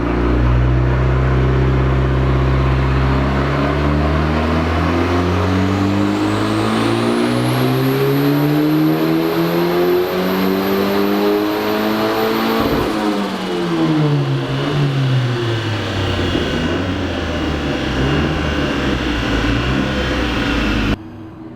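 BMW M46 engine with a turbo, big cam and high compression, revving hard through a long sweep up to a held high note, then dropping back and settling, loud and close with no one talking.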